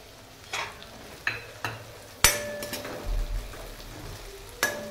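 Onion and curry leaves go into hot oil with ginger-garlic paste for pav bhaji, each drop setting off a sharp sizzle burst, then a crackling fry with a few clinks of a spoon on the pan, close and without voices.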